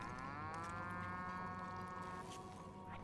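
Cattle in the video game The Outer Worlds give a long, loud, drawn-out moo that fills the clip, with no talking over it.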